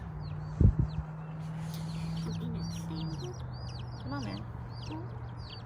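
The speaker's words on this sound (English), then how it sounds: "she's going to first tell you the names of our baby chicks." Baby chicks cheep in a classroom, with high, rapid peeps scattered through the clip under a steady low hum and a brief bump near the start; a child's name is spoken once.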